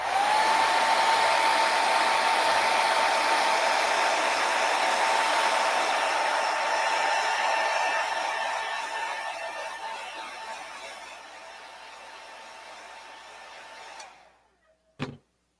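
A hair dryer blows steadily on acrylic paint, a loud close whoosh with a whining tone that gradually softens as it moves away, then cuts off abruptly with a brief clunk at the end.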